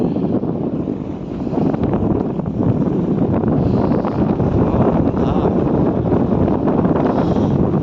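Loud, continuous wind rumbles against the microphone atop a ship's crane, a steady blustery roar with no speech.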